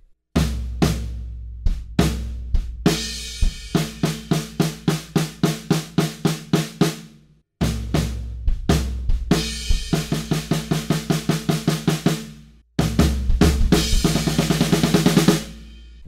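A full drum kit plays a groove, with steady kick, snare and cymbal hits pulsing in a driving rhythm, building into a busy fill with crashing cymbals near the end.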